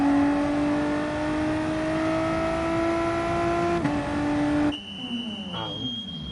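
A race car in a racing video game at a steady engine drone, its pitch falling as it brakes hard into a four-wheel slide, then a sudden cut to quieter sound with a high whine.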